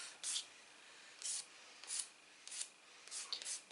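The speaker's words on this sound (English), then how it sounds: "all I'm doing is I am just filing off" A nail file rasps back and forth over gel polish top coat on a natural fingernail, in about six short, separate strokes, each a bright, scratchy burst with brief pauses between, close and fairly quiet, with no talking.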